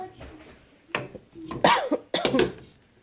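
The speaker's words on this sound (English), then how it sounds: "Excuse me, I have a cough." A person coughs a few times in quick, harsh bursts close to the microphone, with a brief throat-clearing sound between them.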